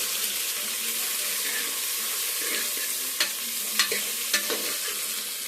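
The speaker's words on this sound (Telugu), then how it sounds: "ఇప్పుడు వంకాయ ముక్కలు అలాగే మునక్కాడ ముక్కలు, ఆలుగడ్డ ముక్కలు, క్యారెట్, బీన్స్ ముక్కలు వేసుకొని ఒకసారి బాగా ఆయిల్లో ఫ్రై చేసుకోండి." Eggplant, drumstick, potato, carrot and bean pieces fry in hot oil for a South Indian sambar, giving a steady close sizzle with a few sharp stirring clinks near the end.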